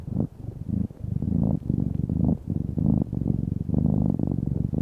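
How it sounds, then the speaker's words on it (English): A cat with a stuffy nose purrs up close in a steady rhythmic rumble, each breath cycle pulsing on and off, fairly quiet, with no talking. "So you can hear his purring."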